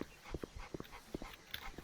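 A dog whimpers and whines in short repeated bursts, fairly close, with a few higher yelps mixed in and no talking over it.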